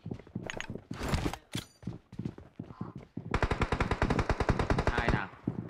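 PUBG Mobile gunfire cracks out in scattered single shots and short bursts, then a long, rapid automatic volley, loud and close, with a voice briefly heard between shots.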